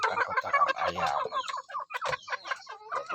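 KUB chickens cluck and murmur in a raised coop, several birds calling close by in irregular overlapping bursts with no one talking.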